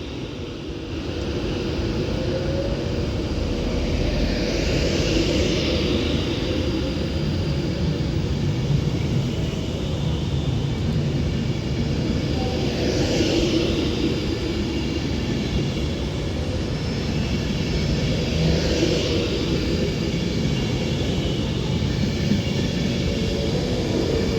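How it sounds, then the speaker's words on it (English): Avanti West Coast Class 390 Pendolino electric train, unit 390-134, departing Stoke-On-Trent station on the West Coast Main Line toward Manchester Piccadilly, a steady loud rumble and whine that holds level for about twenty-four seconds, with faint higher swells passing. "this Avanti West Coast Class 390 Pendolino 390-134 is off now to Manchester Piccadilly"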